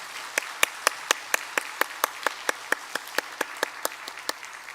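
A church congregation claps in welcome for three newly registered families at a Sunday worship service, about twenty sharp, evenly spaced claps ringing out clearly with no talk over them.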